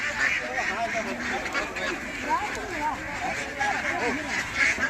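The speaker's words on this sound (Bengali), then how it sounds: "এখন হাঁসগুলো আপনার ভীত সন্ত্রস্ত অবস্থায় রয়েছে দেখতে পাচ্ছেন" Frightened ducks at a duckling hatchery give a dense, overlapping chorus of quacks and honks at close range, running continuously without pause, with voices of people faintly mixed in underneath.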